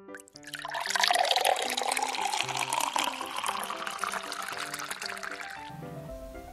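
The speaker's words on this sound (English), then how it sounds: "And now we are going to add some water into the bottle." Water pours steadily into a plastic sensory bottle holding toy fish, a continuous splashing fill lasting several seconds over background music.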